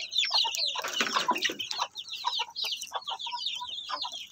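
Black Shamo Asil chickens in a flock of native fowl cluck and chatter close by, a busy overlapping run of short calls with no talk.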